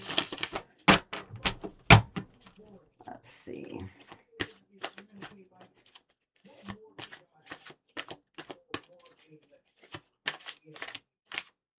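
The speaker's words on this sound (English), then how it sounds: "these cards are so big, I have a hard time shuffling them sometimes" Large tarot cards riffled and shuffled in quick bursts of crisp flapping and clicking, close by, with a person speaking briefly in between.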